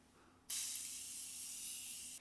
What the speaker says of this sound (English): I'm gonna use the Morphe Continuous Setting Spray today